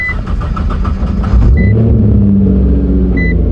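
A Nissan GTR R35 widebody cranks with a rapid starter chatter and several chimes, then the engine catches and settles into a loud, deep, steady idle close by.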